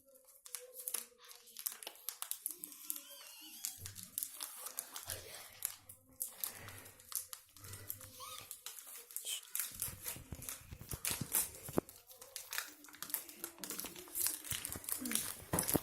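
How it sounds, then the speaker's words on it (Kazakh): A Milka Oreo chocolate bar's wrapper torn open and crinkled by hand, close crackling and rustling bursts that come and go over about fifteen seconds, with occasional soft thumps. "Бұны сіздермен бірге ашамын."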